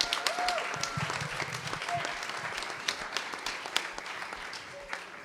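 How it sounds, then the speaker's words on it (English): An audience applauds a Grade 6 group called Uniteens, steady clapping filling the room at moderate loudness, with a few scattered cheers and voices mixed in. "So we're going to applaud them."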